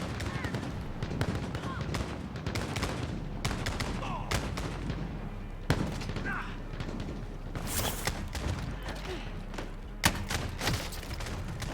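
Gunfire in a PS4 shooter video game pops in scattered shots and short bursts amid a busy battle din, with a couple of louder bangs standing out and talk heard beneath.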